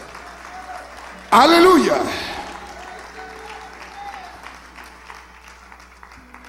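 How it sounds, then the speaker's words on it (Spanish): A church congregation breaks into a loud, brief burst of applause that fades quickly, followed by a speaker's voice and a shouted exclamation over low room noise. "Dele un aplauso al Señor con todo su corazón."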